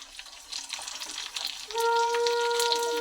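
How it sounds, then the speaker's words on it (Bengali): Fuchka puris deep-fry in hot oil with a soft, steady sizzle and crackle. Partway through, a thin, steady whistling tone joins the frying noise. "তেলটা গরম হয়ে গেছে, আমি এখন অল্প অল্প করে ফুচকা দিয়ে দেবো"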